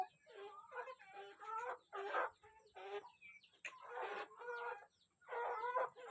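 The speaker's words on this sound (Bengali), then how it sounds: "যে আমাদের দেশি মুরগির ফার্ম, এখানে 8টা দেশি মুরগি আছে" Desi hens on a small farm of eight birds cluck in repeated bursts, close by and fairly loud, with short pauses between the calls.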